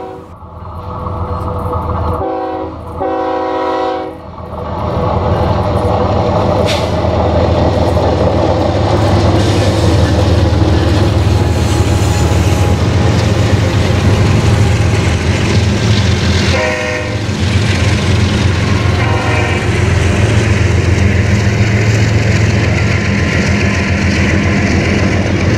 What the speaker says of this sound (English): And then behind me here, there's another train coming up from Bakersfield.